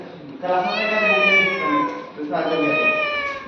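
A voice imitates a cat with two drawn-out meows, the second following a brief pause, close and fairly loud.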